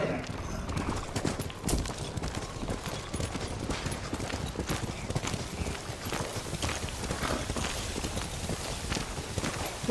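Horse hooves pounding at a gallop in the samurai game Ghost of Tsushima, a dense, continuous drumming of hoofbeats close by over snowy wind, with a voice talking over part of it.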